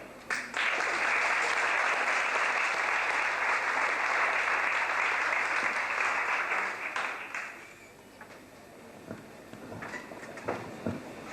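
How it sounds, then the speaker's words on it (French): Audience applause at a store inauguration for a drawing category winner, a broad steady clapping that swells in and holds for several seconds before thinning into scattered claps near the end. "Et je vous demande aussi de l'applaudir."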